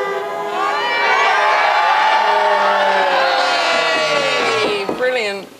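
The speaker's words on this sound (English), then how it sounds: "Cheering," A crowd of football fans at a Burscough match cheers and whoops loudly in a sustained roar lasting several seconds before it tails off.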